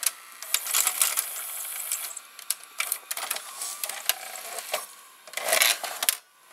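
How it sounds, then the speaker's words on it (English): Mechanical clicks, whirring and clunks from a Sony SLV-701HF VCR as it ejects a tape, a close, quiet run of short clatters with a louder burst of motor noise near the end. "Now I'm gonna eject the tape."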